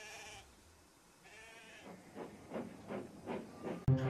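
Several short bleats repeat in a rough rhythm over a low rumbling background, ending with a sudden loud clunk.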